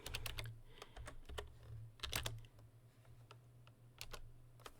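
Rapid keyboard typing on a computer keyboard as numbers are entered, with irregular clusters of sharp clicks and a low steady hum underneath, close and moderately quiet.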